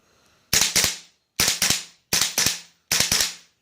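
GHK M4 airsoft rifle with a steel bolt carrier firing on semi-auto: four evenly spaced shots, each a sharp close double crack as the bolt cycles, with silence between.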